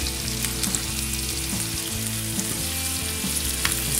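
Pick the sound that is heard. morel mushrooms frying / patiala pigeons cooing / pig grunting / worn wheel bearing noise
morel mushrooms frying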